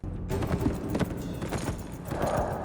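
Horse hooves from the TV series Dexter, a quick run of clip-clop beats moderately close over a dense background of noise, with no voices.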